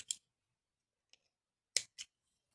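Scissors snipping through a small piece of string, heard as a faint lone click and then a quick pair of crisp cuts, close by in a quiet room.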